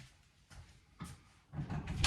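A door being opened in a patient care room, heard as a few soft, muffled thumps and rustles at close range that grow a little louder toward the end, with no one talking.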